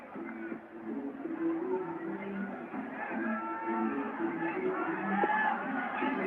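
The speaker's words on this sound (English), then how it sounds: "the Nepalese crowd just lifting, aren't they? They're lifting." Cricket crowd at a Nepal match, a steady roar of cheering and whoops that swells and stays loud throughout, with faint voices mixed in.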